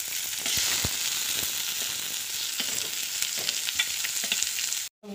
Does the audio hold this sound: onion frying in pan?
yes